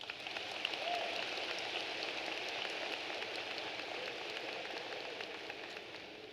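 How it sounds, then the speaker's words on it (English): A large crowd applauds junior marshals at a high school graduation ceremony, a steady, distant-sounding patter of many hands that holds evenly for several seconds and eases slightly toward the end, with no talking. "Please join me in giving these juniors a round of applause."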